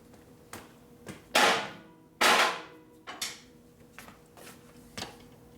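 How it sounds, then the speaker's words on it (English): An impact driver works loose the oil pump on a Harley 1957 panhead drag bike, giving a few sharp, loud rattling bursts among scattered single knocks and clacks, close and without talk. "Need an impact driver for the oil pump here."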